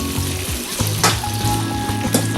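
Garlic and peppers fry in oil with beef drippings in a wok, giving a steady dense sizzle with a few sharp utensil clinks and scrapes, close and fairly loud, without talk.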